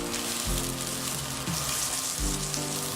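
Homemade oats and yoghurt kebabs cooking in a pan without deep frying, giving a steady soft sizzle throughout with a few low clunks from the pan, close by and moderately loud.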